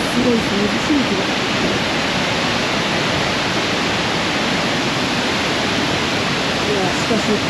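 Rushing water and heavy spray behind Niagara Falls: a loud, dense, unbroken roar of falling water fills the whole stretch, while people talk faintly beneath it.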